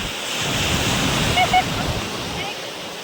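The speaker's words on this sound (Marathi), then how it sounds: "लाटा वगैरे कसल्या येतात." Steady roar of ocean surf washing onto Shrivardhan beach with wind rushing across the microphone, continuous and fairly loud, with a brief faint voice in the middle.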